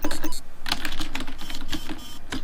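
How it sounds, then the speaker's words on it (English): Rapid mechanical keystroke clicks from on-screen text being typed out in the Superhot video game, a dense, fairly loud run of ticking taps with no voices over it. "it types so slowly!"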